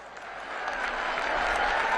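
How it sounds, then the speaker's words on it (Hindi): An audience at a political rally in a pavilion applauding to welcome the Prime Minister and Nitin ji, a dense crowd clapping that swells steadily louder over two seconds. "माननीय प्रधानमंत्री जी का, माननीय नितिन जी का जोरदार तालियों के साथ आप अभिनंदन करें"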